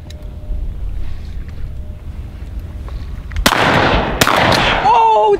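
Shotgun shots during a duck hunt, fired from a cheap pawn shop double-trigger shotgun: two loud sharp reports about a second apart, the first abrupt and rising out of steady wind and low boat-like rumble.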